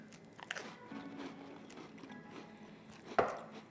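Close, crunchy bites and chewing of smoked cream cheese topped with cherry pie filling. Several sharp crunches and wet chewing noises come in irregular bursts, with a louder bite near the end and no talking.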